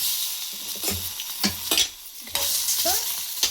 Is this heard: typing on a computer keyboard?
no